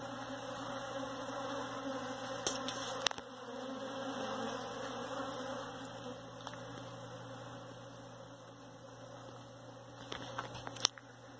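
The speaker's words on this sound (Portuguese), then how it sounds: "Quem conhece o barulho de enxame de abelha, pega e multiplica por 10." A swarm of bees makes a constant, dense buzzing drone throughout, fairly faint and steady, with a few sharp clicks breaking in now and then.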